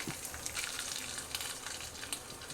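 Dried red chilies and lentils fry in oil in a pan for a tomato-mint chutney, giving a steady close sizzle with faint stirring scrapes.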